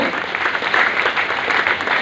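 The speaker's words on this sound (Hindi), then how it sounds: "बहुत अच्छी तालियां भी तो मारो" An audience at an income-plan seminar claps steadily for about two seconds, a dense, even burst of applause that sounds close and loud, with no voice over it.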